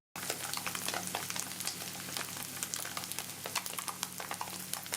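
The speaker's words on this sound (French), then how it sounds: "je le fais simplement griller dans l'huile" Pieces of tofu fry in oil in a pan, giving a steady, close crackling sizzle with scattered sharp pops throughout, and no one speaks.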